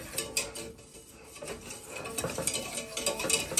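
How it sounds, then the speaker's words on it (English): A whisk stirs homemade condensed soup in a pot, giving close, continuous scraping and swishing with light metallic taps against the pan, at a steady, busy rhythm. "let me just whisk this around for a little bit"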